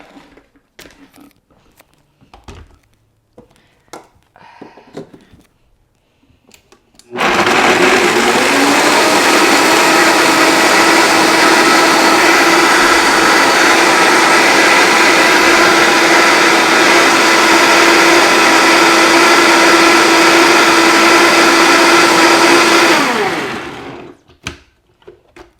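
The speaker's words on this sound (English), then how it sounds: "So I'm going to just put this on the blender" A Vitamix blender whirs through a cashew cheese mixture, starting abruptly after a few quiet seconds of faint handling noises, then running as a steady loud motor roar for about sixteen seconds before cutting off.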